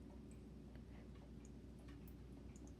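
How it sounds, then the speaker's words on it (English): Several household clocks ticking faintly in a quiet room, soft steady clicks over a low background hum from a running pet water fountain, with no voices. "I think you can hear my clocks more than you can hear this thing"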